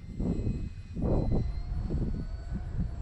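A small RC plane flies in gusty wind ahead of a big storm; its faint engine drone sits low beneath heavy, buffeting wind rumble that surges in waves.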